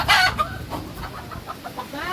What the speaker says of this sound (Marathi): कोंबड्या पण आहेत बघा